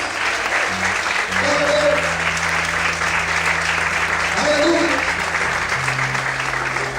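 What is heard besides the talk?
congregation applauding in church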